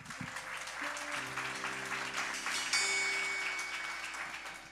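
Congregation applauding during an evening church service, a sustained wash of clapping at moderate distance with sustained keyboard tones and a few cheers rising through it.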